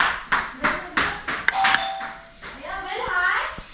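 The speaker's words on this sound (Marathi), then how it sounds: "हाय, बेल आहे." An electronic doorbell in a home rings with a bright chime. Voices talk over it throughout.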